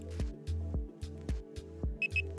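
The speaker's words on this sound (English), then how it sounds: "Each bleep indicates what sensitivity setting you are on." An R4 carp fishing bite alarm gives two short, high-pitched bleeps in quick succession while its sensitivity settings are cycled, heard after a series of soft rhythmic thumps.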